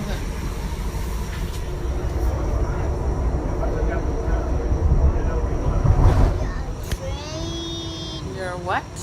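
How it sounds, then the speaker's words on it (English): A MAX light rail train rumbles steadily along the tracks from inside the car, a loud continuous roll with a brief swell of louder noise, while a child and an adult talk over it. "Ride on train."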